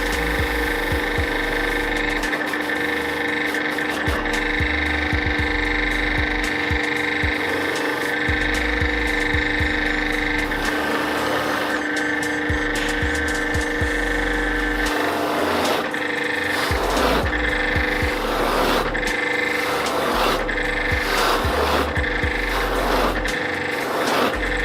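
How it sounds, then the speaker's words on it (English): A factory polishing machine buffs a waxed cricket bat with a steady, loud mechanical whir and hum. Scuffing bursts of friction come through as the bat presses against the wheel, and nobody talks. "I'm just going to give the bat a quick polish to make it look nice and shiny, give it the finishing touches"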